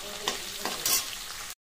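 Onions frying in a pan, a close sizzle broken by a few scraping stirs of the spoon, ending abruptly.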